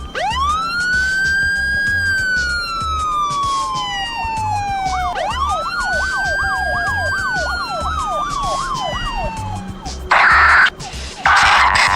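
A loud, close police car siren rises into a long wail, then switches to a rapid yelp that sweeps up and down, followed by a couple of short harsh horn-like blasts near the end.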